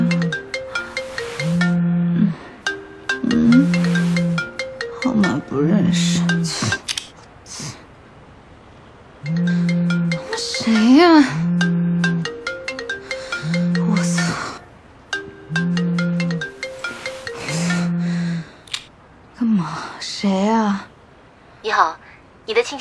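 A phone ringtone for an incoming call, a repeating electronic melody in bursts with short pauses, loud and close, with a voice speaking between rings near the end.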